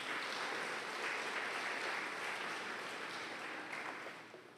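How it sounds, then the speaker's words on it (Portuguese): A church congregation claps loudly for Jesus in a steady, dense wash of applause that holds for several seconds, then thins slightly near the end, with no voices over it. "aplauda bem forte o nome de Jesus"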